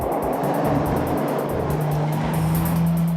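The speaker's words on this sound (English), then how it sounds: "It sounds mean under full throttle, but still not as aggressive as the V8 Continental." A 2013 Bentley Continental GT Speed, a 600-horsepower coupe, under full throttle on a cone course: a loud, sustained engine roar with rising pitch and broadband rush, close and unbroken, without talk.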